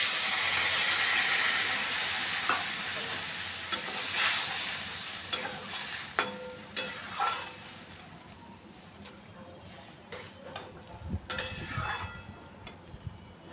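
Hot fried spice paste for a fish curry hisses and sizzles steadily as water goes in, fading to softer bubbling broken by a few sharp clinks of a spoon or utensil, with no voices.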